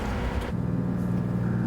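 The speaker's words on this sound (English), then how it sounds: "Start engine." The engine of a treasure-hunting crew's vessel rumbles steadily at close range, a dense low drone that shifts slightly in pitch partway through as it settles into idle; no talking.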